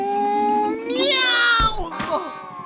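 A voice imitates a cat's meow with a drawn-out, wavering cry and a second shorter mew, close and loud, with no other talk.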